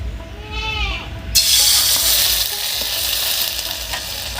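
Rice batter for thin chakli pitha hitting an oil-brushed kadai, giving a sudden loud hiss that keeps sizzling steadily up close, preceded by a brief bleat-like squeal and clatter.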